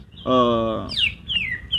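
A caged cucak ijo (green leafbird) sings a series of quick, descending whistled notes, clear and close, following a brief steady tonal sound at the start.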